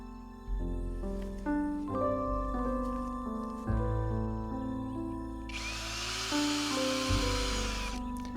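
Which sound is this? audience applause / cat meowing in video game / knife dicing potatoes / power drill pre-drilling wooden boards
power drill pre-drilling wooden boards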